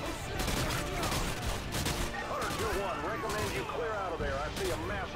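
Gunfire in the war game Call of Duty: Modern Warfare 2: dense, rapid bursts of shots mixed with explosions and whistling effects, continuous for several seconds while someone talks over it.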